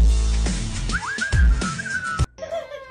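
Someone whistles a short, bright rising-and-falling tune over a thumping music beat, the whistle sliding through a few notes before the track cuts briefly and a lower whistled phrase follows.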